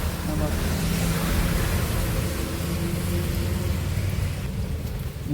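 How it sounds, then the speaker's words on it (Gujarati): Steady light rain hiss fills the scene, a continuous even wash of noise with a faint low rumble beneath it. "વરસાદ ધીરો ધીરો ચાલુ થઈ ગયો"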